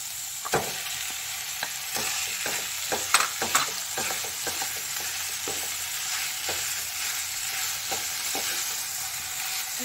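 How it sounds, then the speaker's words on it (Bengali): Boiled potato being stirred into a frying mixture for beetroot chops, with a steady close sizzle of hot oil and irregular scraping clinks of a spatula against the pan throughout. "এরপরে এই সেদ্ধ আলুটা মিশিয়ে দিচ্ছি"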